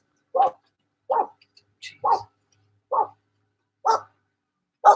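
A dog aboard a sailboat barks at passing dinghies, with sharp, evenly spaced single barks repeating about once a second, loud and close.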